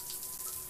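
Shower water from an indie horror game runs in a steady, hissing gush with a faint tonal hum underneath, brief and continuous.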